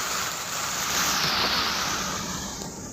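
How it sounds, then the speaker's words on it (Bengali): Steady broadband rush of fountain water at Gardens by the Bay, Singapore, a continuous wash that swells slightly in the middle and tapers toward the end, heard up close with no voices. "তখন কিন্তু জলের যে সাউন্ডটা অনেক ভালো লাগে।"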